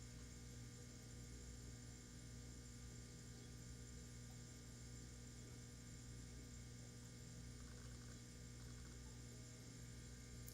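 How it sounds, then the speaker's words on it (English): An aquarium air pump for a small fish room running right up close, a faint, steady mechanical hum with a constant buzzing drone and no change across the whole stretch. "let me show you how loud this air pump is if we're right next to the air pump."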